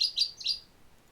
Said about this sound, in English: And my bird is being loud and annoying.